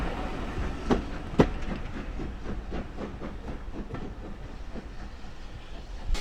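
Carriages on the Swanage Railway clatter along the track with a steady clickety-clack rhythm and a couple of sharper knocks, heard alone at moderate distance with a faint hiss in the background.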